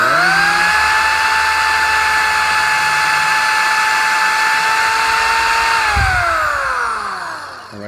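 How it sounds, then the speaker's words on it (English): A power drill drives a screw into a wooden canvas frame, giving a loud steady whine that holds for about six seconds, then slows and winds down as the screw seats. "So we'll screw this in there."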